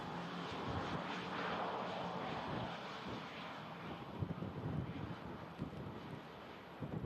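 An arriving aircraft at Manchester Airport in strong wind makes a continuous engine roar, heavily buffeted by gusty wind noise across the microphone, with no voices.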